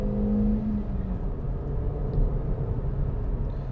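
A 2021 Suzuki Ignis with a 1.2 engine running on the road, a steady droning engine hum with a rising whine early on, heard from inside the car with no talking.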